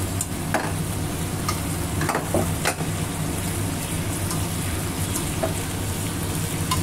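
Spice paste for a fish-head dal fries and sizzles in a pan while being stirred, sharp scraping clicks of the spoon popping out over a continuous close sizzle.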